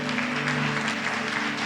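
A church congregation at a Sunday service claps hands together, a dense, steady wash of applause filling the room throughout with no break.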